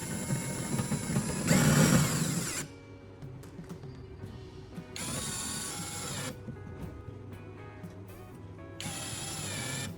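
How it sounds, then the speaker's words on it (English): Screw being driven into one half of a plastic jerrycan to form a toolbox hinge: three separate bursts of steady mechanical whirring, each a second or more long, close by, with quieter clicks and handling noise in between. "I will screw it into the other half of the jerrycan to complete the toolbox's hinge mechanism."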